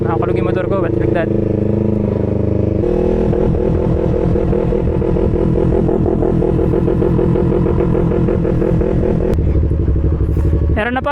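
A Ducati Panigale motorcycle engine rumbles and revs loudly and close at a trackday, a steady throbbing drone with shifting pitch throughout.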